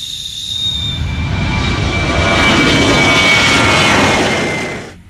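A Garuda Indonesia toy airplane gives a loud jet-engine whoosh with a high whine on top. The sound swells over about four seconds, holds, then cuts off.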